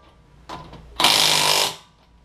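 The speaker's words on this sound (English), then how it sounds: "And I torque my wheels to 100 foot-pounds." A power tool whirs at the wheel nuts of a Honda Civic Mugen Si, a brief blip followed by a louder, steady burst of under a second that then stops, close by with no talking.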